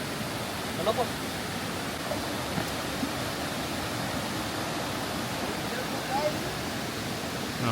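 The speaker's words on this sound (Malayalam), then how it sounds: "വെള്ളച്ചാട്ടം" A waterfall in an Australian forest pours in a continuous, even roar close by, with faint voices now and then beneath the rushing water.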